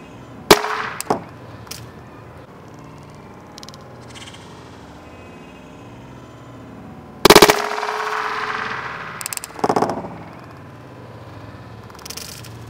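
An S Thunder toy grenade launcher fires foam balls in a few sharp pops with quiet gaps between them: one burst early, then two louder shots near the middle and a final one at the end.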